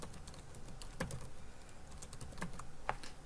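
Keys clatter on a computer keyboard, a quiet, close patter of individual presses with a few sharper taps over a soft background hum.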